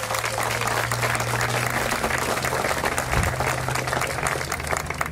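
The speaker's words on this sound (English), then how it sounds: "Can we give those people a round of applause, please?" Steady, dense applause from a large audience at a rainbow flag raising ceremony at St. Pete City Hall, sustained without a break and close up, with a faint crowd murmur under the clapping.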